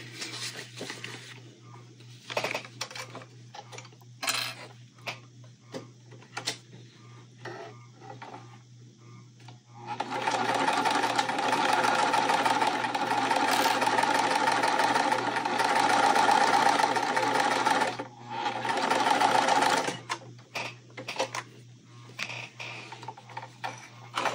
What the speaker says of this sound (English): we're going to sew this side here